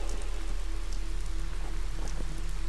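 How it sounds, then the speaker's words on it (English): Continuous steady rain in the video game Lethal Company, hissing and pattering, with a low hum underneath and no voices. "Oh, it's just raining"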